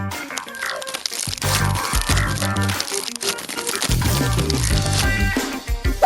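Ears of corn being husked by hand give crisp, repeated crinkling and tearing bursts of dry leaves, loud and close, running almost continuously with short pauses and no speech.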